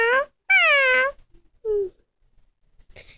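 A young kitten meows three times, loud and close: two drawn-out, rising cries, then a shorter, softer mew, with quiet gaps between them.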